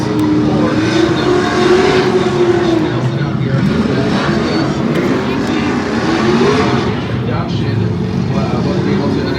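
Formula Drift race car engine roaring and revving continuously while drifting with tires blowing smoke, loud and sustained, with a crowd or announcer voice underneath.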